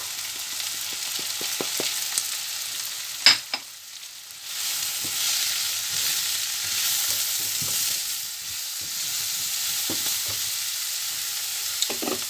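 Onions and spices fry in a pan at the start of cooking for a meat pie filling, a continuous loud sizzle with frequent stirring scrapes and one sharp clank of a utensil, no voices.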